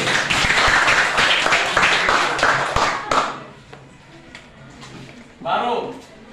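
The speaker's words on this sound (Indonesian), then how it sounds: "Tepuk tangan dulu." Schoolchildren in a classroom applauding after answering a teacher's riddle, a dense burst of clapping for about three seconds that thins into scattered claps, with children's voices chattering around it.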